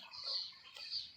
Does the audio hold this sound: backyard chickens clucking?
yes